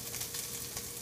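Food cooking in a pan, a constant dense sizzle and crackle of frying that stays loud and close throughout, with no voices.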